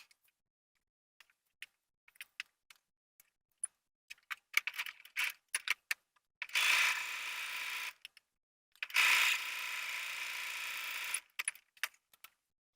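Sewing machine top stitching a pocket edge, two bursts of fast whirring stitching of about two seconds each, surrounded by sparse clicks and fabric handling taps in a quiet room.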